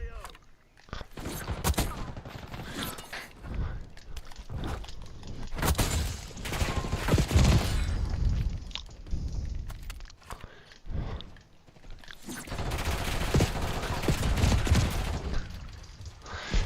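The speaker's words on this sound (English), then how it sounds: "Nice shots, Reckless." Rapid gunfire in a military shooter video game, dense bursts and single cracks crowding the whole stretch at steady loudness, with some quiet radio-style chatter mixed in.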